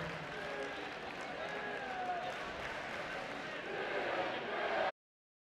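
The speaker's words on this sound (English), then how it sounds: "Big round of applause, PJ Thompson" A crowd applauds and cheers steadily at a boys' district tournament championship basketball game between Scott County and Henry Clay, a dense wash of clapping that holds for about five seconds, then cuts off abruptly.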